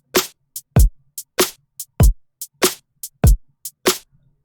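A neo soul drum beat at 100% swing with a heavy, lopsided feel: deep kicks, crisp snares and short hi-hat ticks in a loping shuffle rhythm, played alone.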